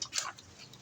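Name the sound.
dog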